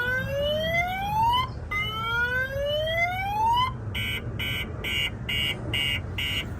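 Loud 2024 Chevrolet Silverado 2500 truck alarm sounding: two rising whooping sweeps followed by a run of rapid, evenly spaced buzzing honks.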